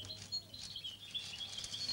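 Small birds in a closed, fully darkened birdroom give soft, sparse high chirps and tweets, faint and somewhat distant over a low room hum.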